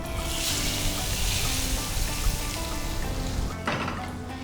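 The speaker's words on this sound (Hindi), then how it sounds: "ज़ीरे और लाल मिर्च का मैंने तड़का बनाकर इसके ऊपर डाल लिए" A hot cumin and red chilli tempering is poured over cooked white beans (safaid lobia) in a home kitchen, giving a steady sizzling hiss close by that crackles throughout and cuts off abruptly near the end.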